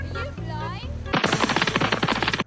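Rapid automatic gunfire in a GTA-style video game, a dense close burst of shots lasting over a second, preceded by a voice speaking.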